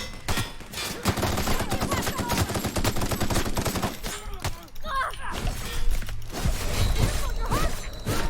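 Rapid automatic gunfire in the sci-fi shooter The Outer Worlds, loud, close bursts of dense repeated shots with crashing impacts, pausing briefly before further heavy firing.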